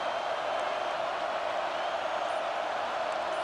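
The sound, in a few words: loud stadium crowd cheering during a football game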